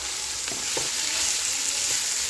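Onion hits a pan with cumin for a taki fish mash, giving a brief, steady close sizzle with a couple of light stirring knocks.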